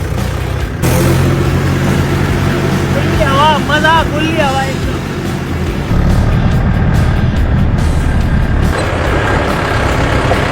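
A tractor engine drones loudly and steadily while riding on board outdoors, with a rough low rumble throughout, and people talk over it.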